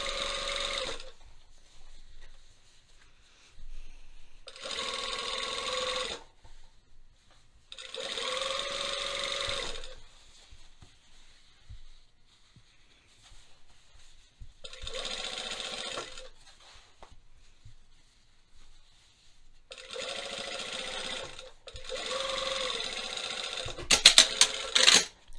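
Sewing machine stitching a trouser seam, steady whirring runs of stitching repeated in seven bursts separated by quiet pauses, close and clear.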